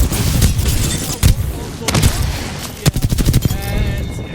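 Artillery pounds in a competitive video game match, loud booms and rapid bursts of fire arriving in clusters, with a rattling salvo near the end and a whistling tone fading out.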